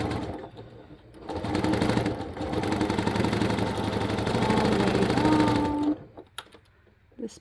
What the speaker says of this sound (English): then you can stitch that seam